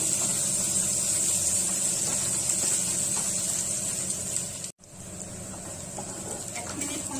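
Finely chopped onions fry in hot oil over a high flame for an Assamese fish curry with jackfruit seeds. A steady, fairly loud broadband sizzle runs throughout, briefly cut out once midway.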